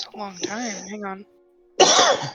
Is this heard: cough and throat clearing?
yes